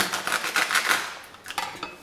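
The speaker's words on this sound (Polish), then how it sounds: "nie bawię się w krojenie, tylko ją po prostu rozrywam i układam na wierzchu" Soft handling noises of a mozzarella ball torn apart by hand and laid onto diagonally sliced baguette on a board, with a few light clinks, close and fairly quiet, no talking.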